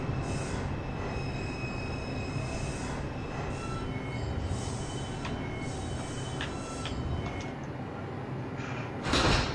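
A Roblox video game subway train, a Brooklyn-bound 3 express, rumbles steadily along the tracks with a dense, roaring hum and occasional metallic squeals, ending in a brief louder burst near the finish.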